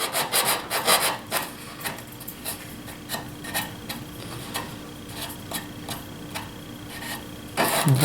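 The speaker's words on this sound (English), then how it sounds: "a piece of 150 sandpaper wrapped around an old broom handle here." Wood is sanded with 150-grit sandpaper wrapped around an old broom handle, working inside a small wormhole on a dovetail key joint box; quick rhythmic rasping strokes repeat steadily at close range, ending with a louder burst.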